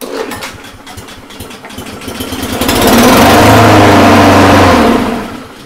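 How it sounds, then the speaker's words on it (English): A Husqvarna lawn mower engine is pull-started after a not-starting fault: loud rustling and handling first, then the engine catches and runs loud and steady for about two seconds before dying down, with no talking. "Fuel's on. Let's give it a pull."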